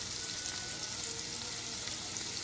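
Celery and onion sizzling in a hot pot, a loud, steady hiss of frying with fine crackle, close and continuous, without speech.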